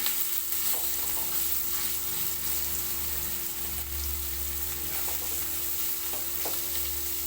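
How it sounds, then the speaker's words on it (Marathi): Steady sizzling of fish frying in a little hot oil in a wok over low heat, a constant crackle with a faint low hum in the background. "तेल आता तापवायला ठेवलं आहे आता कढईमध्ये तर आता मस्तपैकी आता तळायला घेते"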